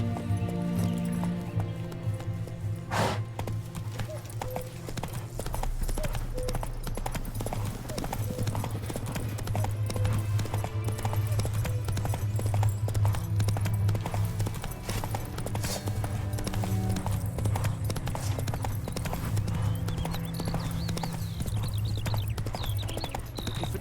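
Horse hooves clip-clop steadily in The Witcher 3, joined by an occasional neigh, under game music and ambient sound.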